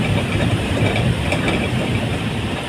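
A light rail LRT train passes along an elevated line in a city, a steady broad rumble with faint rail clatter holding constant and close throughout, no voices.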